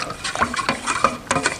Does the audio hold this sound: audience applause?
no